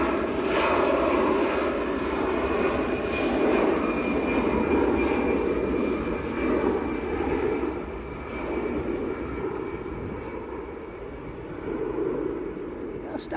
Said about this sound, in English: So that is EasyJet to Athens on the roll.